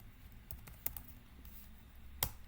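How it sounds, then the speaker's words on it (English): Quiet typing on a computer keyboard while writing code, with scattered soft key clicks and a few sharper taps, heard alone at close range. "What's wrong with my typing today?"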